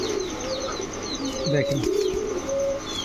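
Racing pigeons, grizzle birds kept by a pigeon seller, coo softly in short repeated throaty phrases close by, mixed with a few light chirps over a quiet background.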